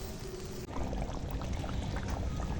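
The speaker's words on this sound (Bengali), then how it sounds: "এই যে মশলা ধোয়া জলটা দিয়ে দেব।" Spice-rinsing water poured into a pot of cooking mutton curry, a steady splashing pour that starts abruptly and continues loudly, no voices.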